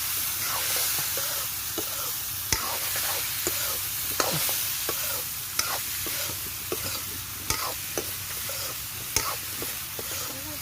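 Vegetable curry stirred and fried in a pan, a steady sizzle broken by repeated sharp scrapes and taps of the spoon against the pan, close and continuous with no talking.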